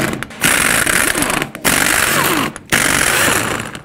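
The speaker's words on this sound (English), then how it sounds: "remove all six of your 22 millimeter lug nuts" A power tool removes 22 mm lug nuts from the wheel of a 1999-2007 GMC Sierra. Three loud, close, rattling bursts are heard, each lasting about a second, with short breaks between them.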